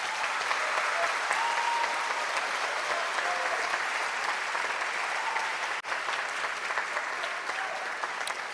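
Steady, sustained applause for Dean's honorees at a university honors convocation, a large audience clapping continuously at an even level throughout.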